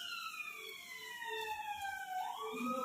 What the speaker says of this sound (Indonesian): semakin kencang seiring dengan mendekatnya mobil ambulans.